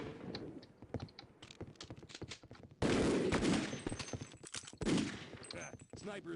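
Gunfire from the video game Half-Life: Opposing Force, a scattering of sharp shots and short bursts at moderate loudness, with two louder bursts standing out midway and a quiet voice speaking over the action.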